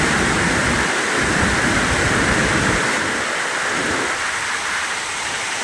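Heavy rain pours down steadily, a dense, loud roar of falling water filling the scene without pause, with no voices heard over it.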